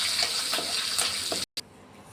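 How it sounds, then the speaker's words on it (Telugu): Tempering spices and curry leaves sizzle in hot oil for a fenugreek-leaf, sesame and tomato chutney, a steady close hiss that cuts out for a moment and then resumes. "ఇప్పుడు పోపు దినుసులు, కరివేపాకు వేసుకోండి"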